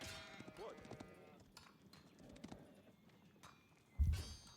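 Horse hooves clip-clop in the Age of Empires IV strategy game, soft rhythmic hoof taps mixed with other game sounds and a louder thump near the end.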